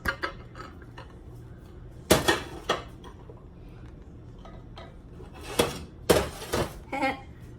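A bowl of packed rice is flipped onto a plate in a kitchen, giving a few sharp ceramic knocks and clatters separated by quiet gaps.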